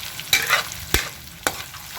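Food being sautéed in a pan, stirred with a few sharp scraping strokes over a steady sizzle, close and fairly loud with no talking.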